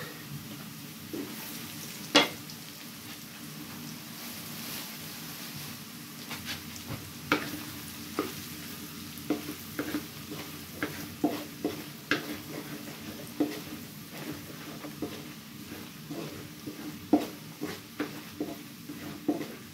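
Mixed seafood stir-frying in butter in a pan, with a steady sizzle and repeated scraping and clacking of a utensil stirring, close up and without talk.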